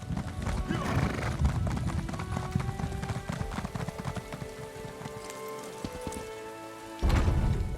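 Steady clip-clop of horse hooves at a trot in the video game Elder Scrolls Online, close by, with a whinny and patter of rain in the background.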